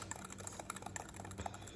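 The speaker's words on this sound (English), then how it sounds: "now we're gonna whisk that up together" A whisk beats a seasoning mixture with crushed red pepper in a bowl for fire cracker crackers, giving quick, faint, irregular clicking taps close by.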